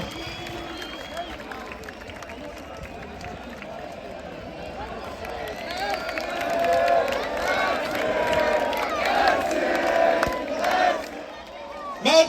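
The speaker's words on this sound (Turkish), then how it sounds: "kalecimiz Ersin alkışlarınıza geliyor." A large football crowd cheering and clapping at a Beşiktaş Turkish Cup trophy celebration, the roar swelling in the second half with shouts rising above it, distant and echoing as in a stadium.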